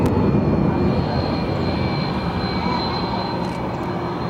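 Airliner jet departing Barcelona airport, a loud broad engine roar that stays strong and then eases slightly as the aircraft pulls away.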